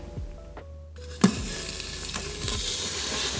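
White onions drop into hot sesame oil in a cooker and begin to sizzle, a sudden sharp hiss after a quiet moment settling into a steady, close frying crackle.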